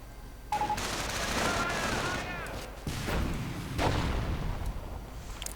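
Panzerschreck rockets and gunfire in a World War II strategy game battle, with rattling bursts of fire, whooshing launches and a couple of heavier thuds, dense and continuous, under faint commentary.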